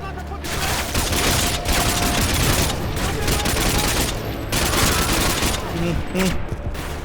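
Dense, continuous gunfire bursts from the video game Call of Duty: Modern Warfare 2, loud and sustained, with brief gaps between volleys.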